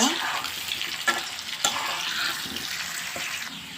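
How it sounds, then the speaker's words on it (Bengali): Potato pieces frying in hot oil, a close, bright, continuous sizzle with a couple of sharp clinks as the pieces are turned, and no voices. "এখন আমি আলুগুলো একটা একটা করে দিয়ে ভেজে নিব।"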